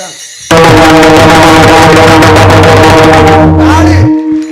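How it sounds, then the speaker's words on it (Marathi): Mridang drum played loudly at a Marathi kirtan, with rapid strokes under sustained droning tones, in a dense burst that stops abruptly near the end. "मृदांग"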